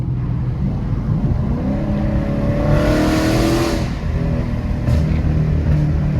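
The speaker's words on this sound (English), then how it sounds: "It backfires like crazy, especially when it's cold outside." A loud Dodge Charger Scat Pack 392 engine revs up and settles back, followed by a couple of sharp exhaust pops, backfires, as it idles.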